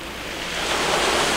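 Ocean surf breaking at a reef at high tide with murky water, a continuous broadband wash that grows slightly louder over the moment, with no voices.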